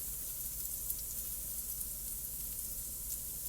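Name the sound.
T-bone steak sizzling in a pan after being flipped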